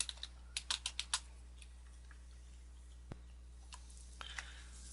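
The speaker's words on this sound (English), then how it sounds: "so we type this in." A computer keyboard is typed on in a quiet room: a quick burst of soft key clicks, then a few scattered taps after a pause, all close and faint.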